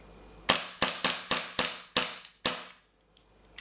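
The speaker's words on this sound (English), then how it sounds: "I think we've got some gas in the magazine so we can fire it" A WE Tokarev TT33 gas blowback airsoft pistol fires seven sharp, close shots in a quick, fairly even rhythm, each with a short metallic slide snap, then falls silent.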